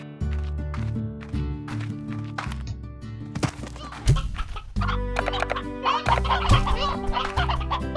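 Chickens clucking in the video game Slime Rancher, a busy stream of overlapping clucks and squawks over steady game music, close and continuous with no talking.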